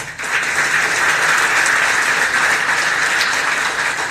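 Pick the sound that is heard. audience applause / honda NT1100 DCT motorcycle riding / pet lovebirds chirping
audience applause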